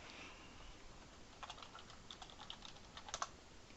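Password being typed on a computer keyboard, a quiet run of light key taps that starts partway through and grows a little busier toward the end, with no talking.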